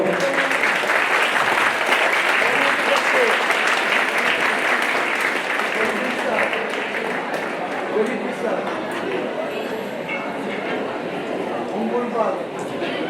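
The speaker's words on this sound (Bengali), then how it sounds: "আমরা আরো জোরে করতালি দেব" A hall audience at an annual prize-giving ceremony of a Ramakrishna Vivekananda Mission claps in sustained, loud applause that dies down slowly toward the end.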